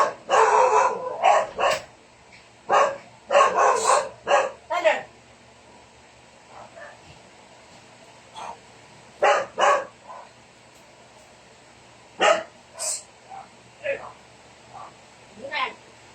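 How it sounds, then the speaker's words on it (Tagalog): Several dogs bark in repeated bursts, some sharp yips among them, with quiet gaps between volleys; the barking sounds moderately close. "Tumatahol yung mga aso."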